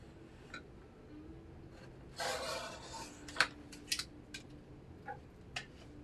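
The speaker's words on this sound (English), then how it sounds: "I'm going to go ahead and trim this up." Paper craft being trimmed: a brief rasping, rubbing slide of a paper trimmer blade followed by several sharp clicks and taps, close and quiet, with no talking.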